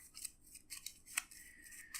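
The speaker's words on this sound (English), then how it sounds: "I'll shuffle this into our encounter deck." Playing cards being shuffled into an encounter deck during an Arkham Horror card game, a few soft riffling, rubbing bursts close by with brief pauses between them, no talking.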